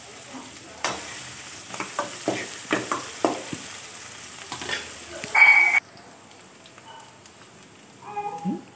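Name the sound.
turmeric and curry leaves sizzling in oil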